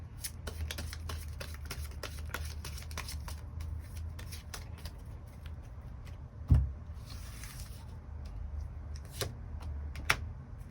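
Tarot cards are shuffled in a quiet room, a faint, steady patter of soft riffling and card flicks running throughout, with one brief louder knock partway through.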